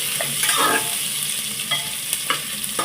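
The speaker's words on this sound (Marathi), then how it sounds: "आता याच्यात आपण हा कांदा घालूया उभा चिरलेला" Thinly sliced onions frying in a pan for mung dal khichdi, a close, steady sizzle with scattered stirring clicks and scrapes, no talking.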